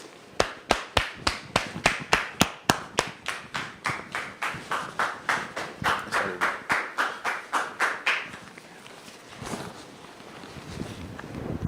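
A studio audience welcoming a guest onto a stage: a run of sharp, evenly spaced claps, close and fairly loud, holding a steady rhythm for about eight seconds before fading into softer scattered sounds.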